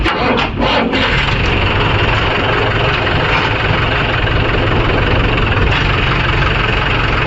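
A Massey Ferguson four-wheel-drive tractor idles while a JCB 3DX loads lake soil, its steady, loud engine drone continuing throughout without pause.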